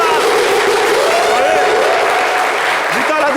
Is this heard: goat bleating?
no